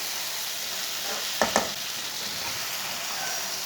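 Okra curry sizzling and frying steadily in a pan, an even hiss throughout with a couple of brief clinks or scrapes of a utensil partway through, no voices.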